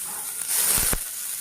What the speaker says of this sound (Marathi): आपण हे मटकी आणि मग थोडं हलकंसं परतून घेऊ